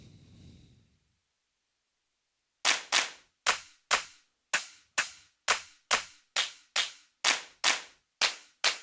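Electronic clap samples triggered on a Roland TD-50X drum module, fourteen sharp, evenly spaced claps after a brief quiet start, each bright and crisp with a quick decay.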